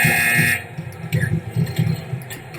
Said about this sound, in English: And we got a buzzer